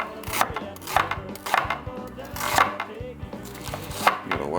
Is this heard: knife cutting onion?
yes